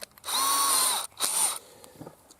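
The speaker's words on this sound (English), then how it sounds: "Drilling a hole in the corner of the trap" A power drill whines close and loud while boring a hole in the corner of a mouse trap, in two short bursts of about a second and a third of a second, then stops with faint handling clicks.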